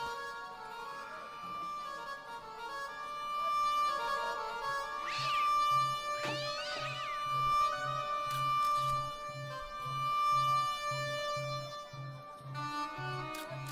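A cat meows several times in the point-and-click game Broken Sword: Shadow of the Templars Reforged, clear drawn-out meows over quiet game music with a steady soft rhythmic tapping, no talk.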